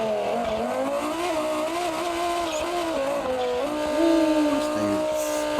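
A turbocharged car in BeamNG, fitted with carbon brakes and running on a track in a VW shootout, revs hard with a strained, wavering engine note while its tyres squeal, loud and close with no pause.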